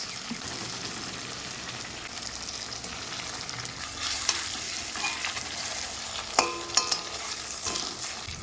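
Fried pigeon fish goes into mustard masala in a pan. It sizzles steadily with a constant frying hiss while a spatula stirs and scrapes, adding a few sharper clanks near the end.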